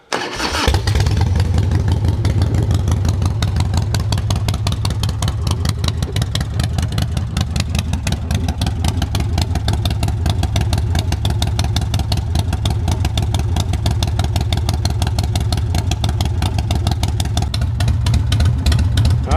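A new motorcycle engine, started cold on choke in warm weather, catches and settles into a loud, steady, close idle with a rapid even putter that continues uninterrupted throughout.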